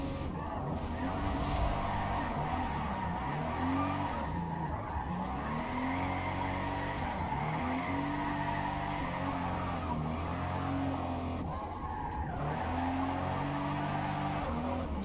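A car drifting in Forza Motorsport from the cockpit view, heard as a steady engine roar with long, wavering tire squeals and skids that rise and fall as the slides link together throughout.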